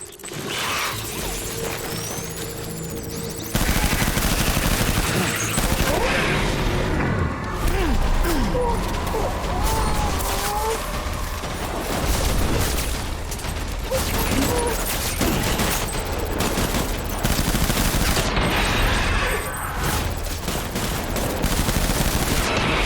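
Gunfire during a final boss fight in the video game Death Stranding: dense, loud bursts of rapid shots and mechanical clatter that run almost without a break for over twenty seconds, with some talk underneath.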